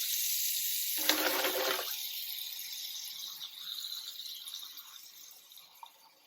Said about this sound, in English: I'm going to put some cold water in there